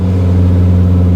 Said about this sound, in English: So this is a noise of restricted airflow.